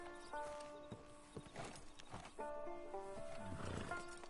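Horse hooves clip-clopping in Red Dead Redemption 2, a quiet, uneven run of hoofbeats with a brief whinny and game ambience, no talk.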